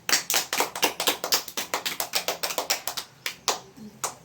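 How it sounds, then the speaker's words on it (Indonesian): Classroom clapping during a fifth-grade lesson on electrical insulators, a small group of students giving sharp, rhythmic claps close by that loosen and thin out toward the end. "Tepuk tangan untuk Nuro."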